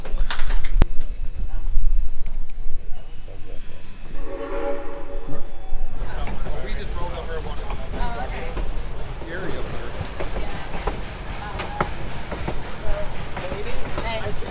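A steam train engine near Rockwood, Colorado sounds a whistle in a steady tonal blast of a few seconds, over rumbling rail noise, with birds and people talking nearby.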